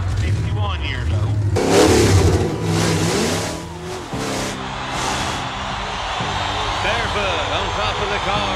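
A 1986 monster truck with a blown, injected 454 Chevrolet engine roars and revs loudly at a crowd show, surging in waves while a loud announcer talks over it.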